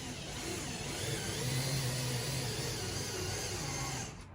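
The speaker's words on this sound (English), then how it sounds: "Again, DeWalt gyro, you see how it works, super rad." A DeWalt gyroscopic cordless drill boring a flush-mount rod holder hole through a kayak hull, a steady whining motor drone held continuously for about four seconds, fairly close, with no talking.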